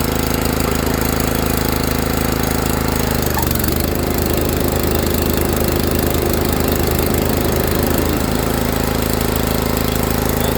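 A walk-behind lawn mower engine runs loud and close with its deck engaged, a steady knocking drone that dips briefly as the deck brake stops the blade, then carries on.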